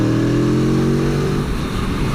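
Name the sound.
Aprilia Tuono V4 1100 motorcycle engine while riding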